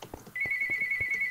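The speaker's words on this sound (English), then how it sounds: "That's just the phone ringing." A phone ringtone starts up and holds as a steady, fairly close electronic tone, with faint background tapping sounds beneath it.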